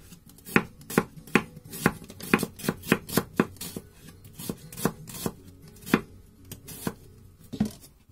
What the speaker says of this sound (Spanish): Ahora cortamos muy fina la cebolla.